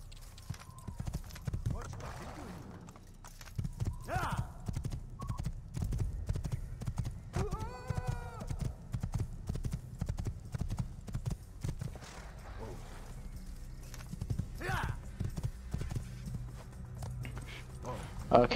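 Steady clip-clop of a white horse's hooves plodding along in Assassin's Creed on Xbox Series S, with a horse whinnying partway through and someone talking over it; game-like background ambience throughout.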